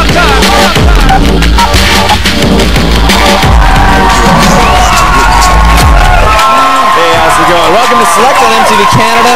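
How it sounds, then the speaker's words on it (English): Rowdy studio crowd at an MTV Canada taping, loud continuous cheering, whooping and shouting with a dense rumble for the first several seconds, then thinning into scattered shouts, with a host talking over it. "Rowdy crowd in here today,"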